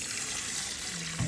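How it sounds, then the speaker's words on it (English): Cold tap water pours into a rice cooker holding a cup of brown rice, a steady close splashing rush that runs throughout with a brief louder gush near the end; no one speaks. "Put it in my rice cooker, and then I'm gonna go ahead and do 2 cups of fresh water"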